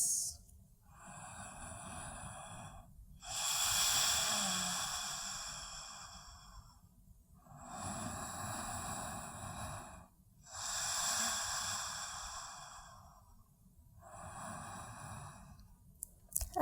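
Slow Ujjayi breathing held in a yoga pose: long, audible throaty inhales and exhales with a soft ocean-like hiss, about four full breath cycles in a steady rhythm, close and alone without speech.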